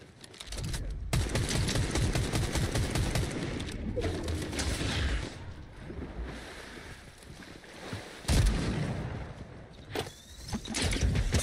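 Video game gunfire: rapid bursts of shots over a steady rushing background, with louder cracks around the middle and toward the end and no clear speech.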